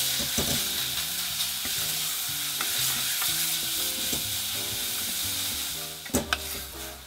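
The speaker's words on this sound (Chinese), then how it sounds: "放入洋葱，炒到半透明， 放入猪脚肉" Onion and pork trotter pieces stir-fry in a hot pan, a steady loud sizzle with repeated scraping and clacking of a utensil stirring, ending in a few sharp knocks near the close.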